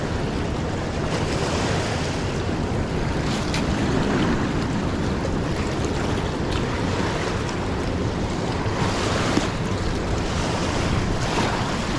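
A raging trout river rushes past in a loud, continuous roar of churning water, with wind buffeting the microphone throughout and no voices.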